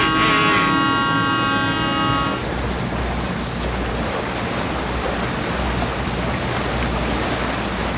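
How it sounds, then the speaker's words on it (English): Amphibious duck tour boat sounding its loud, steady horn blast for about two seconds, followed by a strong rushing wash of water and engine noise as the vehicle moves through the river. "we're going to sound the horn here"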